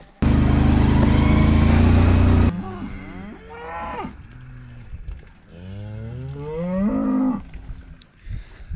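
Cows and calves on a farm near a hill house low and moo in long drawn calls, one after another, loud and close, with a brief engine rumble at the start.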